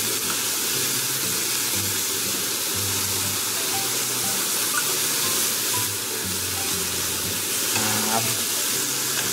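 Baby scallops and enoki mushrooms sizzling in butter on an okonomiyaki griddle, a steady crackling fry running the whole time, with a brief spoken interjection over it.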